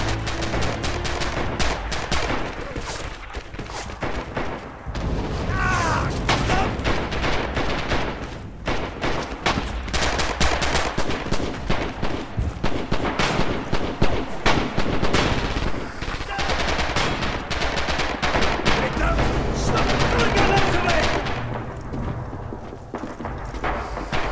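Infantry gunfire in Red Orchestra 2, a World War II shooter: dense, continuous bursts of rifle and machine-gun fire at mixed distances, loud and relentless for the whole stretch.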